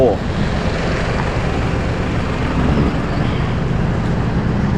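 A Volvo truck engine idles with a loud, steady, close rumble that holds unchanged throughout, while someone talks over it.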